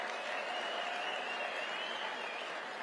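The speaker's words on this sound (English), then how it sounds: "So I want a round of applause for the Epoch Times." Steady applause from a crowd at the AmericaFest 2023 conference, a continuous wash of clapping at moderate, even volume with no break across the few seconds.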